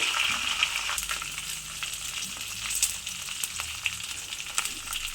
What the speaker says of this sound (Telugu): కొద్దిగా కొత్తిమీర అన్నీ వేసి బాగా ఫ్రై దోరగా వేయించుకోవాలి